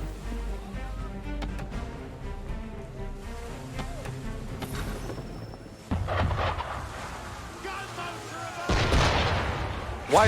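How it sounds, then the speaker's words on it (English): Cannon fire aimed at a ship in Assassin's Creed 3, with heavy booms and rumbling blasts mixed with game music and effects. A louder burst swells near the end, and talk is faintly present. "Why is he shooting at us?"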